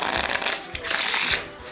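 A Bicycle Radical playing card deck is shuffled by hand: a few quick riffling flicks and taps, then a longer crisp riffle of soft cards cascading together, close and clear without talk.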